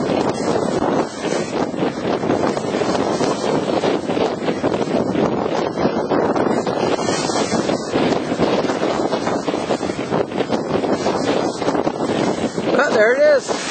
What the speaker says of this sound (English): Getting pounded by the seas, dead into the wind. Got a 15-knot headwind, and we are dead into it.